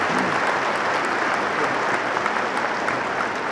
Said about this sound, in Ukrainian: Давайте оплески, ми їх привітаємо.